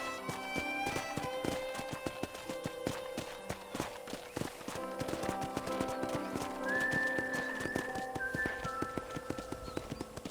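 Hooves clip-clop in a quick, steady gallop in the Western video game Red Dead Redemption, with a horse whinnying partway through and a music score underneath.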